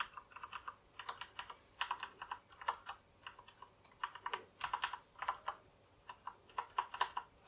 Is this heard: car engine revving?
no